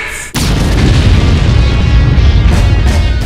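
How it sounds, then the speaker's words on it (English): One loud boom kicks off a sustained, rumbling roar of blasts in the Borderlands 3 reveal trailer that fills the rest, dense and heavy, with a few sharper bursts near the end. "Explosions!"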